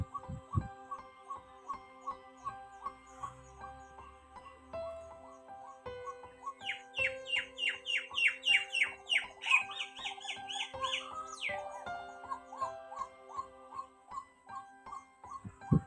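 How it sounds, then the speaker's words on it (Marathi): Birds chirp and trill outdoors in the morning, a rapid series of bright chirps rising in the middle, over faint steady tonal background sounds. "पक्ष्यांचा किलबिलाट"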